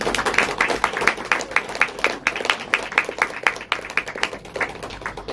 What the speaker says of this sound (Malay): Jadi kalian rasa layak tak mereka untuk mendapat tepukan gemuruh sekali lagi?